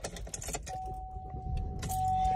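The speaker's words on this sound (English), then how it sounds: "take my keys out of my pocket" Keys jangle as they come out of a pocket inside a car, several short metallic clinks up close, followed by a faint steady electronic tone and low cabin rumble.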